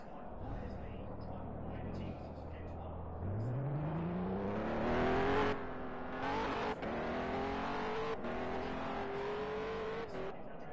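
A vintage stock car accelerates past with a rising engine whine that climbs through the gears, loud and close, then holds a steady high drone while people talk underneath.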